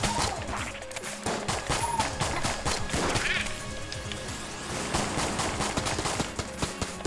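Ghosts firing AK-47s in the game Enter the Gungeon make rapid, clattering bursts of automatic gunfire, mixed with chirpy, whining game effects and a brief voice.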